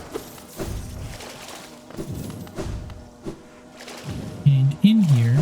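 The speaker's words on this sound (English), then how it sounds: "We want to break this, and then we'll see that there's breakable ground here." Breakable ground shatters in the video game Hollow Knight: a few heavy thuds and crunching breaks over steady game music, ending in a brighter burst of crumbling.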